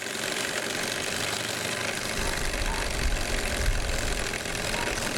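Mamod Telford live steam model engine running outdoors with its boiler still nearly full: a steady, dense hiss and chuff that holds evenly throughout, blended with wind noise.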